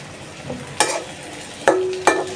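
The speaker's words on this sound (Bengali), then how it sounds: "একটু লাল লাল করে ভেজে নিতেছি।" Vegetables, including pumpkin, fry in a pan until reddish-brown, giving a low steady sizzle broken by a few sharp spatters and stirring scrapes, close by with no talk.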